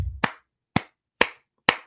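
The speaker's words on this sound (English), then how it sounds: "Golf claps for Marsha." Four slow, deliberate golf claps, each a crisp isolated smack separated by about half a second of silence, close and dry with no voices.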